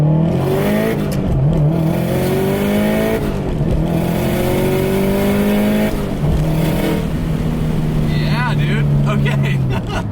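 Subaru STI with an external wastegate, full bolt-on, accelerating hard through the gears in a high-boost pull, loud rising engine tone with brief drops at each shift, a voice talking over it.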